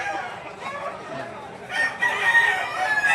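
A rooster crows at a chicken market, one drawn-out, fairly close crow rising in the second half, over background clucking and murmur.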